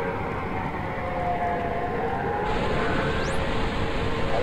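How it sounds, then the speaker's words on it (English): A wailing air-raid siren over a steady roar of city traffic in the World War II submarine game Silent Hunter 3, near Nelson's Column in London; a continuous broad rumble with a rising siren tone, no talking. "I'll just let you listen to the traffic and the sound of the siren for a moment."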